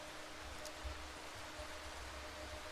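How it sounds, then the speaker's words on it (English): Steady rain falls in the dark woodland survival horror game Darkwood, a constant hiss of drops with a soft low rumble underneath, even and unbroken, with no speech. "Oh, it's raining."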